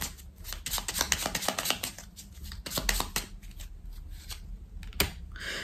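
Tarot cards are shuffled and drawn close up in a run of quick, crisp riffles and slaps. Short pauses break the rhythm before a final few sharp snaps, and nothing else is heard.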